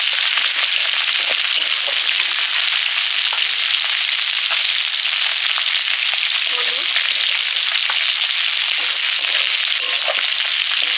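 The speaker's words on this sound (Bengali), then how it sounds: "বেটে রাখা একটা মশলা রাঁধুনি জিরে ধনে একটু তেলে নেড়ে নিচ্ছি" Ground radhuni, cumin and coriander paste sizzles loudly in hot oil alongside fried prawns, a dense, steady crackle with scattered scraping stirs throughout and no talking.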